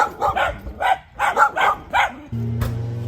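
Dogs barking close by in a quick series of about eight sharp barks, followed by a steady mechanical hum and a single bang.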